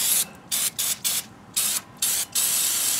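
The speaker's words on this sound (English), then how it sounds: "So I'm just going to spray this down, and you can see it instantly dissolves it." Loud carburetor cleaner aerosol can hissing in several sharp bursts of varying length, close up on a 2005 Dodge Grand Caravan's rear disc brakes, with short gaps of near quiet between sprays.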